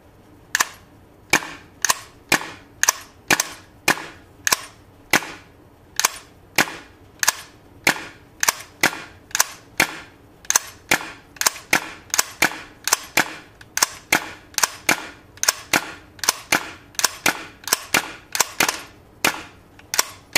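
A gas blowback airsoft M4 rifle, a WE M4/M16 fitted with RA Tech parts, fires about sixty sharp, close, loud single shots in a quick, somewhat irregular rhythm with brief gaps, each a crisp snap of the bolt cycling, and no talking.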